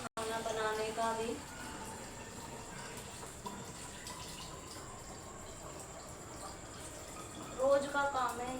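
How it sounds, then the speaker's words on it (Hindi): Water bottles being filled from a tap at home, a steady close trickle and gurgle of pouring water running throughout, with someone talking over it and brief louder splashes near the end. "बोतलें ऐसे ही भर के रखनी पड़ती है फ्रिज में।"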